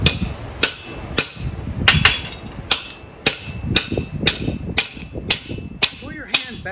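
A hammer drives a drift through thick, hot steel at a blacksmith's forge: about a dozen sharp, ringing metal strikes land at a steady, even rhythm, close and loud.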